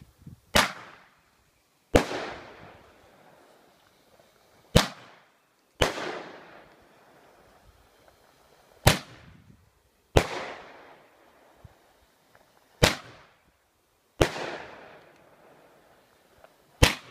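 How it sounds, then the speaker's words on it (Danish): Fatamorgana cake fireworks from T. Hansen fire eight sharp, loud bangs at irregular intervals of about two seconds, each followed by a crackling, fading tail, with no voices over them. "Vi starter med fatamorgana bomberør"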